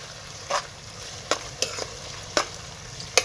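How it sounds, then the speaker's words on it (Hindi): Onions browning in a pan on a home stove, with a steady background sizzle broken by several sharp stirring scrapes and clinks spaced irregularly, close and moderately loud, with no one talking. "ये देखिए प्याज हो रही है ब्राउन।"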